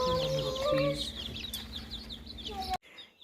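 Baby chicks peep in a busy chorus of high, rapid chirps, close and steady, with a few soft voices talking underneath before the sound cuts off abruptly.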